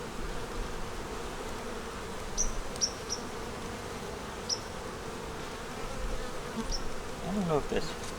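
Honey bees buzz over a brood frame from a hive in cold weather, a dense, steady hum close by, with a few individual bees droning louder as they pass near.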